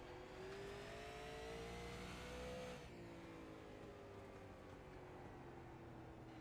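Super late model race car lapping Southern National Motorsports Park late in a 125-lap race, its engine droning loud and steady from onboard, pitch rising then dropping as it shifts through the turns.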